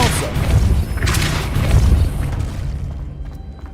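A Depulso spell cast in Hogwarts Legacy, a heavy booming blast with a rumbling low thud that swells, holds, then fades into quiet.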